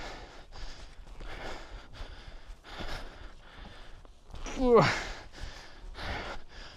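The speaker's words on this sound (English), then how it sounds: "that's why you can hear me panting" Heavy rhythmic panting from a person hiking uphill on Madeira, close breaths in repeated bursts with a sharp gasp midway, mixed with a few spoken words.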